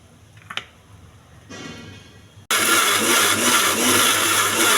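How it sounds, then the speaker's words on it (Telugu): A kitchen mixer grinder blends tomato chutney with lentils and salt, starting with a few clicks and a low whir before bursting into a loud, steady, close grinding roar that runs to the end. "మళ్ళీ మిక్సీ వేసుకోవాలి."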